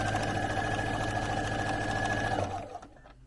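A sewing machine runs in a fast, steady buzzing rattle while stitching down the binding over a quilt's hanging sleeve, then slows and stops near the end, leaving a brief quiet.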